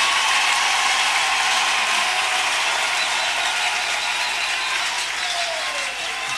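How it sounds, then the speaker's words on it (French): A church congregation in Kinshasa bursts into loud, dense applause and acclamation, a steady roar of clapping and cheering that fills the hall throughout with little letup. "donnez une belle acclamation."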